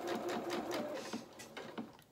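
A domestic sewing machine runs in a steady rapid whir of needle strokes, stitching fabric for a doll's bloomers, then slows to a few separate stitches near the end, close and alone.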